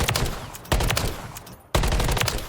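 Two long, rapid bursts of automatic fire from the Bruin light machine gun in Call of Duty MW3, loud and close, each a dense rattling stream of shots with a brief pause between them.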